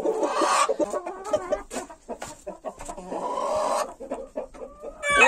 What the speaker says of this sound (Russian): Здесь у меня находятся билефельдеры. 2 курочки и петушок.